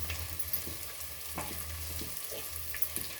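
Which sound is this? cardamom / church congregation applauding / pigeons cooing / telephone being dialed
cardamom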